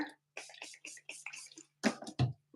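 Short bursts of spray water are applied to hair during styling, several quick hissing spritzes in a row, close and fairly soft, with two louder blasts near the end.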